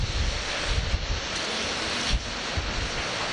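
Wind blowing outdoors during rain, a loud, steady broadband rush with gusty buffeting against the microphone and no voices.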